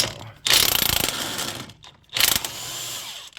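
A wrench works the bolts on the CV axle of a 2004 Saab 9-5 Aero wagon, making two loud, close bursts of rapid mechanical ratcheting separated by a short pause.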